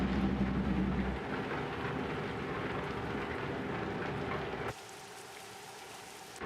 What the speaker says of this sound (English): Oh, the rain's easing up now.